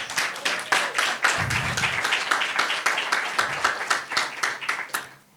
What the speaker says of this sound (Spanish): yo quiero que le demos un aplauso a la Academia de Santos Mejía